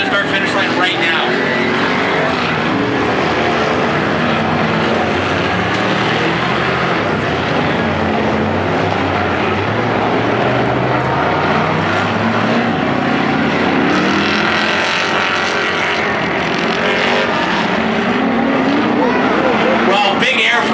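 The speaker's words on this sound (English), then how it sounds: "that's Ways in the bright orange car making it to the start finish line right now" Race cars run a dirt-track heat race, their engines roaring loud and continuous for the whole stretch, with a commentator talking over the racing noise throughout.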